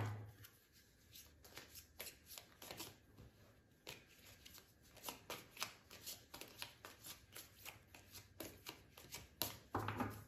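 Tarot cards shuffled by hand in quick, soft riffling bursts, close and quiet, with short pauses between rounds.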